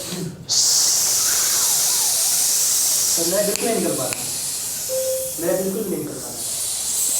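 A voice makes a long, steady hiss through the teeth in imitation of a pressure cooker, then speech follows briefly.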